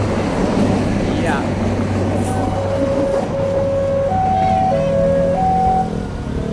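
Argo Parahyangan passenger train passes a level crossing with a loud steady rumble of wheels on rails and a sustained horn-like tone over it, while people talk nearby.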